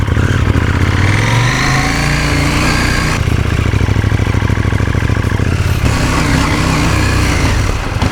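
A KTM motorcycle engine warms up, its steady loud rumble running throughout with a slight rise in pitch early on, then settling into an even, continuous drone with no voices.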